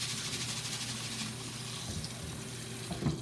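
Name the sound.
rinsing sushi rice in water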